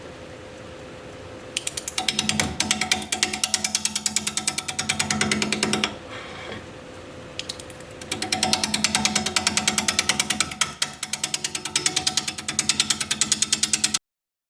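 Wood lathe spinning a cherry limb bowl blank at about 575 RPM with a tool cutting, giving a rapid rhythmic clatter and drone that pauses briefly twice and then resumes, loud and steady with no speech.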